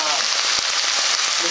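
Pinot Noir poured into a hot pan for beef shank hisses loudly in a dense, even sizzle with a few sharp pops, close and constant for the whole moment.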